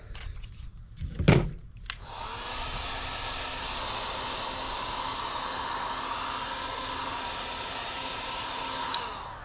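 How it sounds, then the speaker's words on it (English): A heat gun blows on a graphics decal on a 2019 Yamaha YZ85 dirt bike, opening with a couple of loud knocks before settling into a continuous, even airflow roar that holds close and steady to the end. "And I just hit it with a heat gun"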